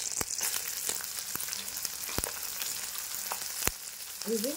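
Chopped onion hitting hot oil in a pan, a steady bright sizzle with a few sharp crackles and pops, close and loud, no talking.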